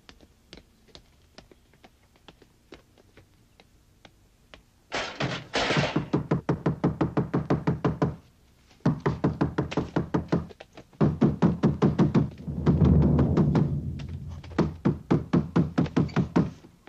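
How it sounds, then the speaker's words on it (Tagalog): Repeated knocking on a house door in a Filipino film scene, a sequence of quick rapping bursts with short pauses between them, fairly close and loud, with no talk over it. "May kumakatok."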